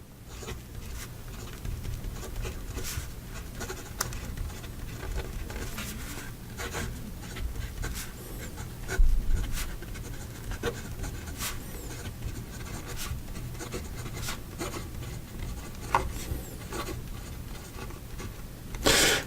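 A Wahl Eversharp Decoband fountain pen scratches and scrapes across paper in a quiet, close series of short strokes and taps, steady and faint, with no talking.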